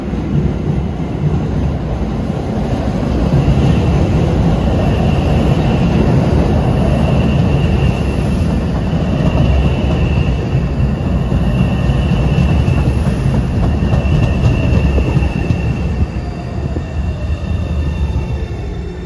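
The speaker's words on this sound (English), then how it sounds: "a Boston bound train approaches, as Oak Grove train departs" Boston subway trains at Malden Center, one Boston-bound train arriving as an Oak Grove train leaves, rumble loudly past the platform with rolling wheel clatter, faint squeals and a high whine, sustained and close, without any talking.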